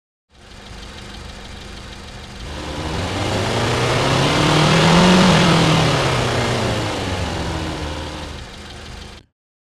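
Honda Civic engine from a granular engine preset, a steady mid-pitched hum that swells and rises in revs toward the middle, then eases back down, loud and alone.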